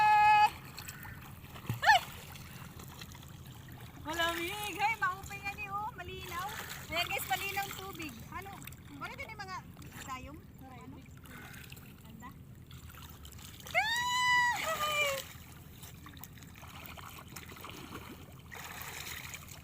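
Sea water splashes and sloshes as people bathe in the ocean, intermittent splashes mixed with excited children's and adults' voices and shouts throughout.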